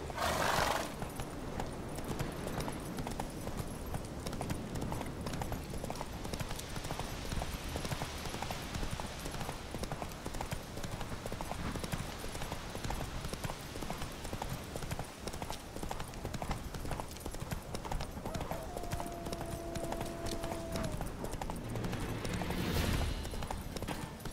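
Horse hooves clip-clop in a steady rhythm while riding through a midnight forest in The Witcher 3, a continuous close trot with a brief neigh near the end and occasional faint voices.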